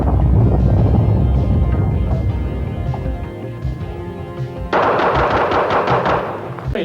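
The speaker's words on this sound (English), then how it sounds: "that's to draw the gun and fire it" Bob Munden's fast-draw revolver shots at a cup, a loud burst of rapid cracks followed by a dense rattling run of shots, close and sharp, with no talk.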